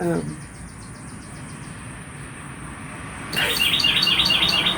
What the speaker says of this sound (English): That is the bird I seen hop up there.